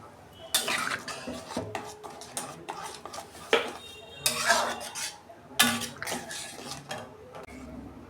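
A spoonful of brown sugar goes into a pot of bottle gourd dal and gets stirred in. A metal spoon clinks and scrapes against the pot in close, irregular bursts, with only a little talk.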